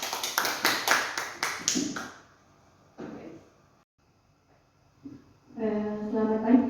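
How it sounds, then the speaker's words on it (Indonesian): A short burst of rhythmic clapping from a small group at a community health center training session, lasting about two seconds before fading into quiet and then a voice speaking. "Tepuk tangan untuk kita semua."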